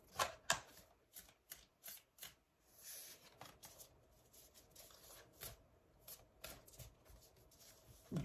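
Tarot cards shuffled and drawn by hand, close and quiet, with a series of quick riffling bursts and soft slaps in an irregular rhythm, then gentler sliding and tapping as cards are pulled, no talking.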